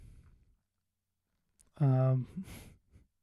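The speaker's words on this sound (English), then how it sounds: "Forgive me for the yawn." A person lets out a single drawn-out, voiced yawn close by. It rises out of near silence and is followed by a few soft breathy sounds.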